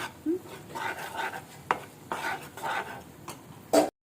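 A spoon stirs ghee through a motichoor laddu mixture in a pan, giving repeated soft scraping sweeps with a few sharper clicks of metal against the pan, close and moderately quiet.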